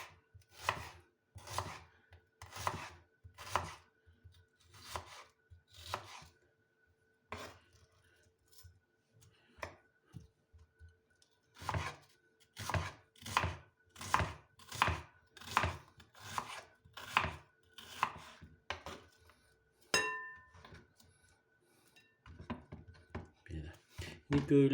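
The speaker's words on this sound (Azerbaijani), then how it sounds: "Soğanımızı bax belə bu şəkildə doğrayırıq." A knife chops onion on a board for an Azerbaijani shepherd salad, in a run of close, crisp, evenly spaced strokes, pausing briefly and then resuming in a steady rhythm with a few small clinks between.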